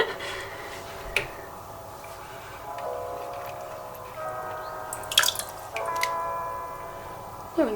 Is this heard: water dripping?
yes